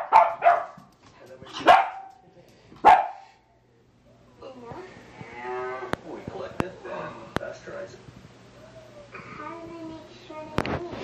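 A pet dog barking at home: three loud, sharp barks spaced about a second apart, then people talking nearby with smaller yips and household sounds.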